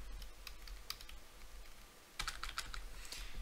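Typing on a computer keyboard while setting up a Raspberry Pi Sense HAT dashboard, a quiet scatter of key clicks that thickens into a denser burst of keystrokes near the end, with no talking.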